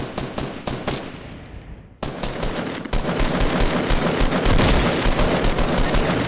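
Rapid automatic gunfire in the video game Fortnite, a dense stream of loud shots that starts sparse, then swells into continuous fire for several seconds with no voices over it.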